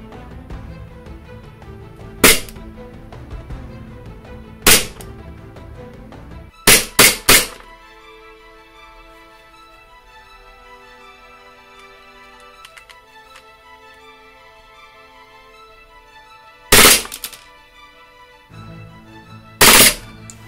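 Several sharp gunshot-like cracks from a KWA KM23F gas blowback airsoft pistol, single and in quick pairs, ring out loud and close between stretches of quiet background music.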